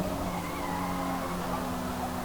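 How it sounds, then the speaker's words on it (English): An all-wheel-drive retro tuner car in Forza Motorsport slides wide with a sustained tire squeal over a steady engine drone, continuous and close, with no talking. "This car does tend to like to slide around if you push it too much"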